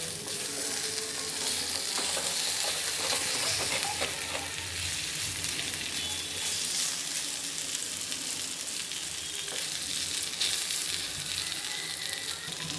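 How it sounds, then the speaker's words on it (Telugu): Raw banana pieces fry in a pan, a continuous, even sizzle close up with faint stirring, steady in level and without any talking. "ఇప్పుడు చూడండి కొంచెంసేపు అట్లా వేగనిద్దాం"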